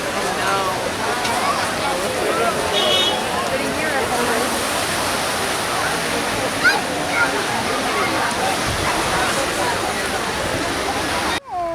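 Water along the Cinque Terre coast at Monterosso makes a steady, close sloshing rush throughout, with a voice faintly present over the continuous wash.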